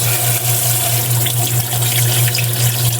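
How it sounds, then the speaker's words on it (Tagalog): Chicken intestines being washed under a running kitchen tap, a steady loud rush of water into the sink with small splashes from handling, continuous and close, no talking. "Yan, hugasan lang natin yan hanggang sa luminis."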